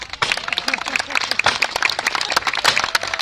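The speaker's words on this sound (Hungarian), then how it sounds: "Gyerünk tapsot neki!" A crowd at a STIHL Timbersports lumberjack competition in Mátra claps steadily, dense rapid applause with voices talking and calling out over it.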